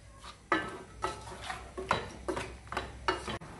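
Lamb curry with spice paste mixed in a pot, with a spoon knocking and scraping the metal sides in quick irregular strokes, close and fairly quiet with no speech.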